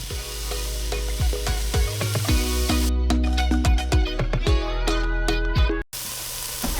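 Chopped onion hits a hot soup pot for Italian sausage soup and sizzles with a steady frying hiss. The sizzle runs under loud plucked background music.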